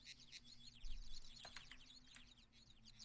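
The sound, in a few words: birds chirping in the Trainz video game soundscape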